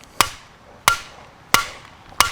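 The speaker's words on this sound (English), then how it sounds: "I'm just hammering," A red dot sight mounted on a handgun is hammered against brick in four sharp, evenly spaced metallic whacks. Each strike is loud and close, with a quick ringing decay.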